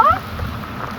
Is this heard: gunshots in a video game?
no